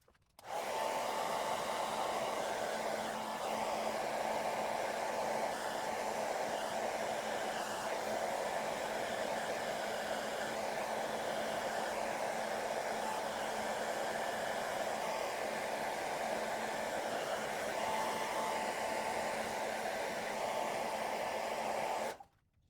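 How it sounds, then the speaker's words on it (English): A hair dryer runs continuously at steady volume for about twenty seconds, smoothing vinyl wrap on a 2022 Mini Cooper SE, a constant close whooshing roar that starts and stops abruptly, with no talking. "get rid of the little wrinkles and any air bubbles I might have with the help of the hairdryer"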